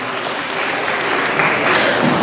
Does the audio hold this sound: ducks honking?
no